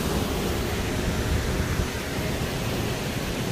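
A decorative waterfall gives a steady, dense rushing hiss of falling water, loud and unbroken throughout with no voices.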